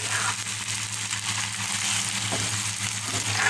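Bitter gourd fry being stirred in a pan, giving a steady, moderately loud sizzle with faint scraping all the way through, and no voices.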